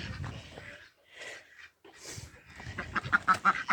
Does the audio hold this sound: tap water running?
no